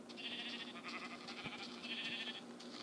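Faint, soft sheep bleats from the Minecraft video game drift through quietly, a few short calls repeating over a low background.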